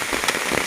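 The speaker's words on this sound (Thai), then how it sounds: "ฝนมาแล้ว" Rain pouring down in a Thai rural yard, a dense, steady hiss of drops striking surfaces with brief crackling patter, close and fairly loud with no voices.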